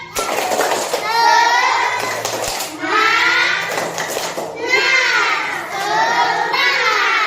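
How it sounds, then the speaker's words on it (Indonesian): Grade 2 primary schoolchildren in a classroom chant a rhythmic spirit cheer together, with loud, close, steady voices and scattered clap bursts early on. "Satu kali lagi tepuk semangat."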